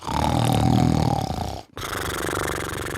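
A voice imitates a loud, rumbling snore, a long rasping inhale followed by a brief pause and another deep growling breath.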